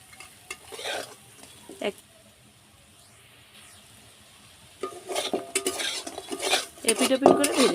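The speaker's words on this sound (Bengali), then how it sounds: "এপিট ওপিট করে ভেজে নিয়েছি, এবার তুলে নেব।" Chana dal fritters frying in oil in a wok while being flipped: sharp spatula scrapes and clinks against the pan come in bursts over a low sizzle, with a quiet stretch in the middle before louder, busier stirring at the end.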